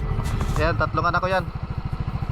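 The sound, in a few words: motorcycle engine running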